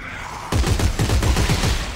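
Rapid bursts of gunfire from the sci-fi horror shooter Dead Space 3 start abruptly and repeat in quick succession for over a second and a half, loud, with no talk over them.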